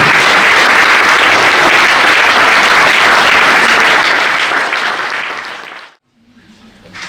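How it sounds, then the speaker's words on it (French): Loud, dense applause from a large audience, sustained for several seconds before fading out quickly, followed by near silence. "Allez, on peut l'applaudir bien fort."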